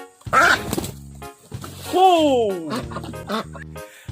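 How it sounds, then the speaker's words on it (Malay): A female meat duck quacks in loud, nasal bursts near the start and again mid-clip, the second call sliding downward, alongside someone speaking. "Yang Pak Long pegang ni itik betina."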